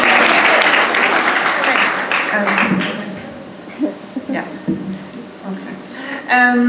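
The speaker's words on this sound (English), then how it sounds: "Round of applause for her first question." Loud, crowded applause from a live audience bursts out and fades over about two and a half seconds, then people talk in the quieter remainder.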